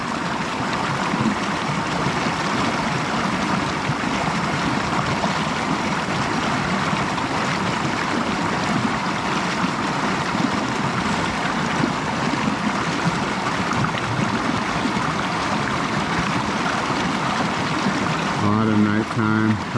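Creek water flows in a steady, dense rush close by, with no pauses, and a brief voice comes in at the very end.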